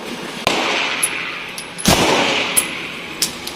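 A stainless Beretta 92FS 9mm pistol is fired left-handed, giving a few sharp, loud reports spaced irregularly over a steady background rush.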